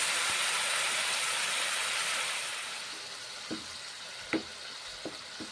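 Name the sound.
spices frying and being stirred in a pan for ridge gourd curry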